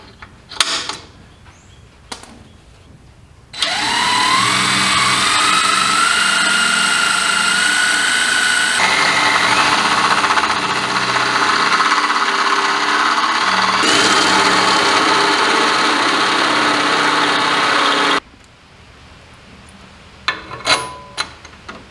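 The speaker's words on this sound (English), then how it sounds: "This is the only one that we have to drill fresh into the frame." A loud drill grinds continuously for about fifteen seconds, its tone shifting slightly as it cuts a fresh hole through the steel frame of a 1972 Chevrolet C10 truck, with quieter workshop clatter before and after.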